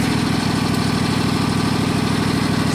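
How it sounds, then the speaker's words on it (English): A Craftsman riding mower's Vanguard engine idles steadily after a cold start with the choke pulled, giving a loud, continuous, even low-pitched chug close by with no talking. "So just going to do a little cold start on the Craftsman"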